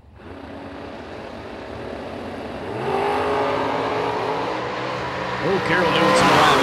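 Corvette and Camaro roadsters launching side by side in a drag race, a loud sustained engine roar that swells around three seconds in and keeps building, with a commentator talking over it.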